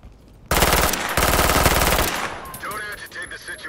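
Close, loud gunfire in the tactical police shooter game Ready or Not: two rapid bursts of automatic fire, the second running longer, then fading into quieter rattles and trailing sounds.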